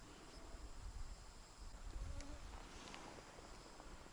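A faint insect buzz hums steadily against low rumbling outdoor noise, with mosquitoes swarming around someone fishing.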